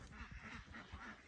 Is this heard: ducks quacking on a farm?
yes